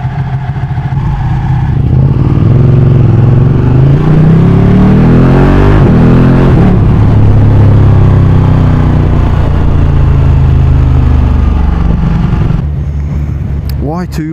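A sports motorcycle engine revs loudly and close up, rising and falling in pitch through several throttle blips before settling, with a brief clatter near the end.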